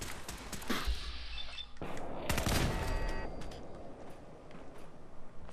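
Gunfire from a long-range scoped weapon in the game Fallout 4 comes as loud sharp reports with rumbling tails, mixed with game effects and a steady background.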